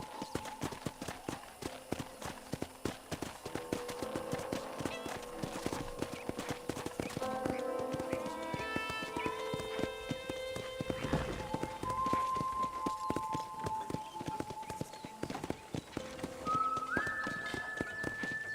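Horse hooves clip-clop steadily during a ride in the game Red Dead Redemption, a continuous rhythmic patter carried under game music and occasional sustained tones, with a horse neighing briefly.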